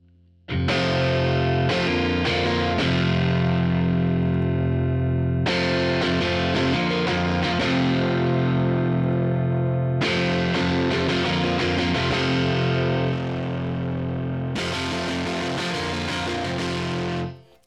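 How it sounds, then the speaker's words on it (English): Heavily distorted, saturated electric guitar chords through an Axe-FX III amp modeler ring out loud in several sustained bursts, each decaying before the next strum. "start bringing in the saturation and distortion"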